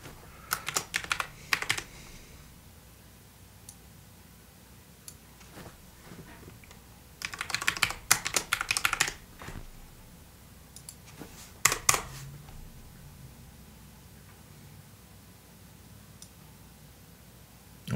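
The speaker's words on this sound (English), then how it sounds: "this is just junk typing" Computer keyboard typing in quick bursts separated by quiet gaps, with clustered clicky keystrokes at the start, in the middle and near the end, fairly close and moderately soft, with no speech.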